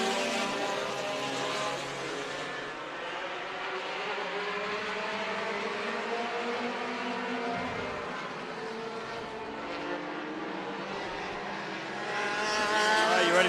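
Race cars at Stockton 99 Speedway roar through a restart, a dense sustained engine drone with several cars overlapping and shifting pitch as they pass, swelling louder at the end, with no talk over it.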